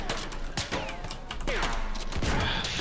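Battlefield 1 trench combat: a dense clatter of gunfire with scattered shots, bullet whizzes and impacts, fairly close and continuous under a rumbling background.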